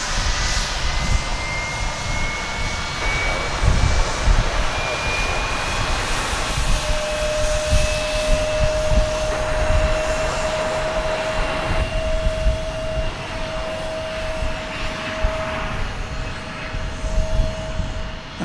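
A Sun Country jet airliner landing at DFW Airport roars steadily with a high turbine whine, a loud continuous rumble close by for the full length, no voices.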